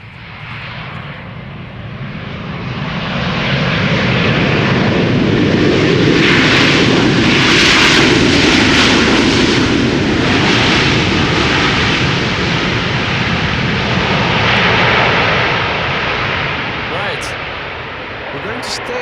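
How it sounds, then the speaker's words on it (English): KLM Boeing 777-300 Orange Pride taking off at Schiphol Airport, its jet engines swelling into a loud sustained roar that peaks midway and then slowly fades into the distance. "the PHBVA KLM Orange Pride 777-300 is taking off or is about to take off"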